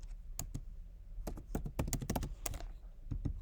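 Fingers type on a computer keyboard in quick irregular bursts of crisp clicks, with short pauses between clusters, heard close and quiet.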